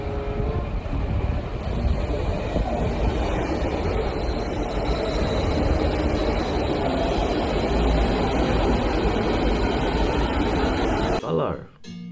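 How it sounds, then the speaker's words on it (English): A red toy bullet train runs with a steady, loud rumbling whir that holds for about eleven seconds, then cuts off abruptly near the end. "And then last one is bullet train."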